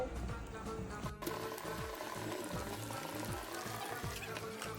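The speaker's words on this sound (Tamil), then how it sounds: "மக்களே மறக்காம புளி தண்ணி ஊற்றிடுங்க" Tamarind water being poured into a fish curry masala in a home kitchen, a soft continuous trickle and splash with low sizzling bubbles, steady and fairly faint throughout.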